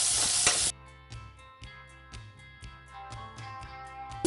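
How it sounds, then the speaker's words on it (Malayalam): Onions, green chilli, ginger and garlic sautéing in a pan, with a loud burst of sizzling at the start that settles into a softer, steady sizzle and occasional stirring taps. "ജസ്റ്റ് ഒന്ന് വഴറ്റി കൊടുക്കാം."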